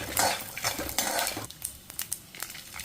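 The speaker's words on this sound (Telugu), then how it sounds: "ఇప్పుడు ఒక 9-10 ఎండుమిర్చి వేసుకున్నాము. అవి కూడా కొంచెం ఫ్రై అవ్వనిద్దాం." Dried red chillies and cumin fry in a pan, giving a soft sizzle at first and then quiet scraping and clinking as they are stirred.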